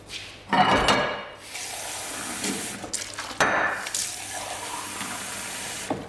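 Water runs from a kitchen tap into a jug, gushing loudly in two bursts with a softer, steady trickle between and after them. No one speaks over it.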